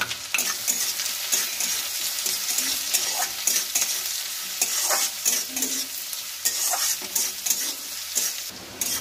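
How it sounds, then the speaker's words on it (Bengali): Finely chopped onion stir-fried in a pan for a Bengali fish-roe kofta curry, a steady crackling sizzle with scraping stirs throughout, close and continuous, no voices. "পেঁয়াজটা একটু লাল লাল করে ভেজে নেবো।"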